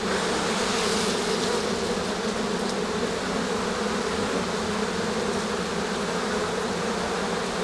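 Honey bees swarm around an open hive that is running low on food, making a dense, continuous buzzing hum that is loud and close throughout.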